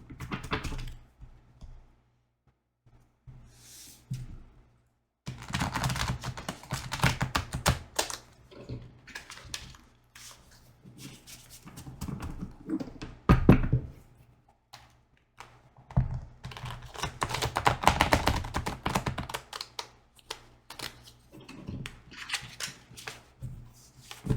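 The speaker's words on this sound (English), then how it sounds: "So let me just shuffle these cards." Rapid papery flutters and riffling clicks come in repeated bursts with brief pauses between, like a deck of cards being shuffled up close.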